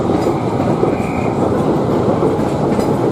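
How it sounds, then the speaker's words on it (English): A train at the station produces a continuous loud rumble and rattling, close and unbroken, with no clear talk over it. "This train is now ready to depart."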